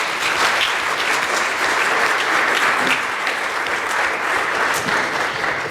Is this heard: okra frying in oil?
no